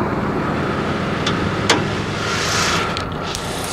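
A 2005 Nissan Sentra four-cylinder engine idling steadily at close range with a low continuous hum, as the air-conditioning compressor kicks on partway through, adding a brief click and a slight shift in tone.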